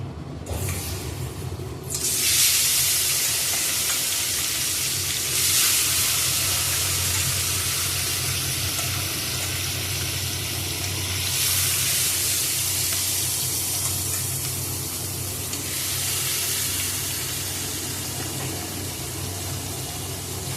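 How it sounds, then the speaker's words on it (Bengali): Fish rubbed with salt and turmeric sizzles in a pan of hot oil, a loud broad hiss that keeps going with swells and dips, heard alone without any talking. "এখন ভেজে নেব মাছটা আগে ভেজে নেব তারপর ডিমগুলো ভাজবো"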